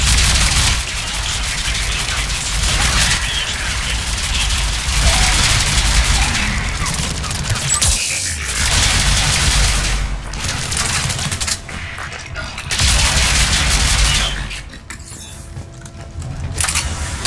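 Missiles firing and exploding in a Mass Effect 3 space battle, a loud, dense barrage of launches and booms that runs on for a long stretch, thinning briefly in places, with no voices heard.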